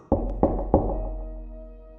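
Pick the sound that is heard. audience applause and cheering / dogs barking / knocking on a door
knocking on a door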